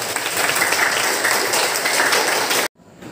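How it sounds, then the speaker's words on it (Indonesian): A classroom audience claps for a student's correct answer in an Islamic studies lesson, a dense, steady burst of applause that cuts off abruptly near the end. "Kita beri aplaus."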